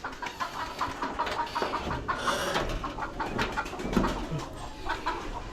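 Native free-range chickens eat scattered feed in a Bangladeshi yard, clucking and murmuring steadily nearby, mixed with pigeon coos and soft scratching, with no talk.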